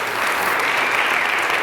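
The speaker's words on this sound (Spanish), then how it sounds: "Den un aplauso de ánimo," A church congregation claps loudly and steadily, a dense, even sheet of applause with no voices over it.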